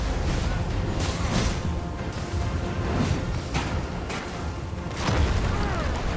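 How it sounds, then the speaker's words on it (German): Several booming explosions from the video game Dragon's Dogma 2 burst out in quick succession over a dense, noisy background of game effects. "Oh, Doppel-Explosion!"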